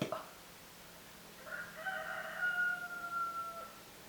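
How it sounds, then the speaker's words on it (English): Rooster kept in a residential neighborhood crowing a couple of doors away, a single drawn-out cock-a-doodle-doo heard faintly at a distance in a quiet room. "Does anyone else have a rooster in a residential area?"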